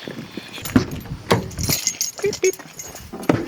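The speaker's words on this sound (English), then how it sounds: "I've got my keys" Keys jangle in a few short metallic clinks and rattles near a car, between other small handling noises, fairly quiet and close.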